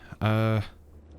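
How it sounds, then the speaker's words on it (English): A goose in the video game Gravity Bone gives one short, buzzy honk, close and clear, standing alone against quiet background. "We can push these ducks, or geese, or whatever these are."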